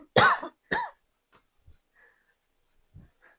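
A few short, throaty coughs close by, two sharp bursts early on followed by faint breathy throat sounds and small clicks in an otherwise quiet room.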